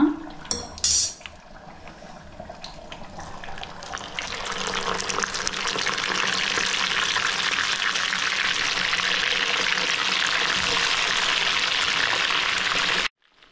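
Chicken garlic kebab pieces sizzle in hot oil, a steady loud frying hiss that starts after a few clanks of utensils and continues evenly until it abruptly stops.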